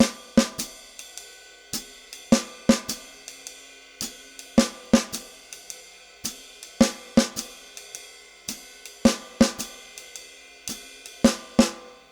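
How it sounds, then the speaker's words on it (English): Sharp, crisp snare hits tap out a syncopated rhythm over a steady repeating pattern, close and clear with no voices. "that rhythm played on the snare drum against the ostinato"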